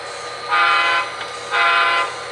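Two short honks of a small model train horn, evenly spaced, over a quiet running hum.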